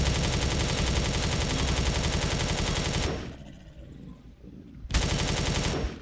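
Rapid, loud weapon fire rattles in a steady stream for about three seconds, drops to a quieter rumble, then resumes abruptly near the end, as laser shots strike the player in a video game.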